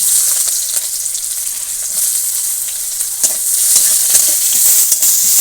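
Chopped onion fries in hot oil in a wok, giving a loud, continuous close-up sizzle broken by occasional scraping stirs.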